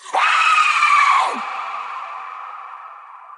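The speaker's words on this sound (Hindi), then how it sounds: "एक भयानक दूर होती हुई चीख सुनाई दी" A loud, high scream cuts in, holds for about a second, then drops and trails off into a fading echo.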